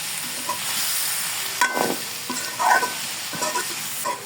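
Malabar spinach being sautéed in a pan for a fish-head chorchori crackles and hisses while a spatula stirs it, with several sharper scraping bursts over a continuous sizzle.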